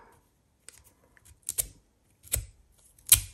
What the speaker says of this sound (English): Let's see if we can fray this. Let's try it with the edge of the scissors.